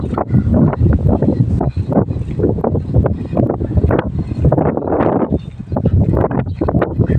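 Strong, gusty wind roars steadily against the microphone, buffeting loudly throughout with no letup.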